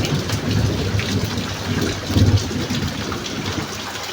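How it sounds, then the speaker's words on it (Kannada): Heavy rain pours steadily, a dense roar with low rumbling underneath, loud and close, with no one speaking. "ಈಗ ಬೆಳಗ್ಗೆ ಹತ್ತು ಗಂಟೆ ಆಗೈತಿ ಆಗಲೇ ಇಷ್ಟು ಮಳೆ ಮಾಡಾಗಿ ಬರೋದು"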